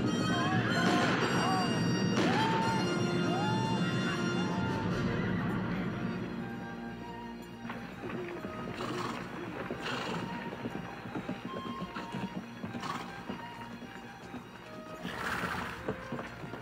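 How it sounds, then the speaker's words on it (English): Several horses whinny and neigh over a rumble of hooves, loud at first and then thinning out as the calls continue more distantly. "Bunch of horses coming this way from the river, Captain. Big bunch."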